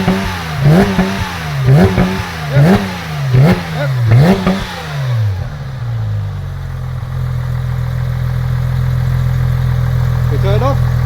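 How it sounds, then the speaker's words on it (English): Porsche 997 GT3 on its factory exhaust revved in a series of about five sharp blips that rise and fall, then dropping back to a steady, loud idle for the rest of the clip. "this is like factory exhaust when we rev it up"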